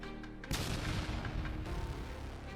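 TM-62 anti-tank mines detonate inside an underground Russian trench: a sudden loud blast breaks the quiet, then a heavy, rumbling roar continues and slowly fades.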